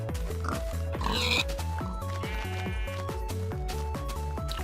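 Pigs in Minecraft Beta 1.6.6 oink in short repeated grunts over steady in-game background music, with a brief burst of other game noise.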